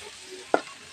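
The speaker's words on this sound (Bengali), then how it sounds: "পেঁয়াজটা ভাজা ভাজা হচ্ছে এদিকে" Chopped onions sizzle in hot oil in a pan, a low steady fry with one short sharp scrape of stirring midway through the second.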